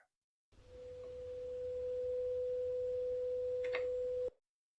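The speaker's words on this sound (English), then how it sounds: "the functional generator inside the breadboard, generating a sine wave" A function generator built into a breadboard puts out a steady, pure sine tone lasting about four seconds, fading in gently and stopping abruptly, with a faint click near the end.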